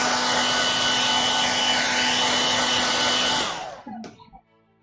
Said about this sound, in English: I use my hair dryer. Sorry, this is noisy.